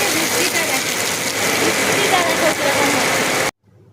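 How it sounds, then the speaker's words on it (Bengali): Steady rain falls outdoors as a dense, even wash of noise with a faint rumble beneath, and a person speaks over it before the sound cuts out abruptly near the end. "বৃষ্টিটা দেখে কেমন।"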